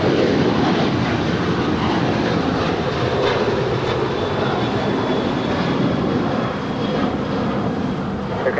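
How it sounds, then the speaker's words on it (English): A United Boeing 737-900ER airliner departs Phoenix, heard as a loud, steady broadband engine roar that fills the scene and holds nearly constant before easing slightly near the end, with no voices. "This is United 2438 departing of Phoenix. This is 737-900ER."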